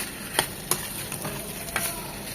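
Shol fish cooking with cauliflower, beans and potato in a pan, a steady soft sizzle and frying hiss with a few sharp scrapes of a spatula stirring through it, close and alone.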